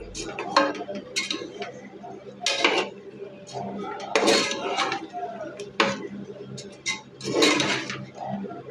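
Marinated chicken for biryani being mixed in a metal pot, with repeated clanks and scrapes of a spoon against the pot in bursts over about nine seconds, close and fairly loud.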